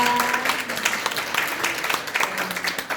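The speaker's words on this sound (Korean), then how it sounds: "이상희 시장님 큰 박수를 한 번 더 보내드리겠습니다" A seminar audience at a parent-school lecture claps for the lecturer, a city mayor, in a short burst of uneven, moderately loud applause lasting a few seconds.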